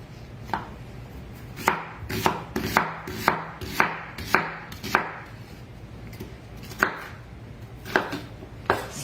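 A knife chops an onion on a cutting board in a home kitchen, landing a dozen or so sharp, close thuds at an uneven, unhurried pace with short pauses between bursts.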